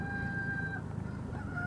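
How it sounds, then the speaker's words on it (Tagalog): A rooster crows at about six in the morning, a clear drawn-out cock-a-doodle-doo heard at moderate distance over steady low background hum, with no talking. "Yung manok ko, tumitilawak na, gising na raw ako."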